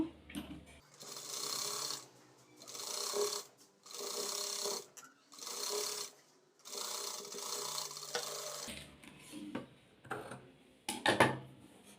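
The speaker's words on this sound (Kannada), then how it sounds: "ಈಗ ಸೀದ ಮೇಲೆ ಒಂದು ಸ್ಟಿಚ್ನ ಹಾಕ್ಕೋಬೇಕು" A sewing machine stitching a boat-neck blouse runs in about six separate bursts of rapid mechanical whirring, each lasting roughly a second, with short quiet pauses between them and a faster stretch of clicking near the end.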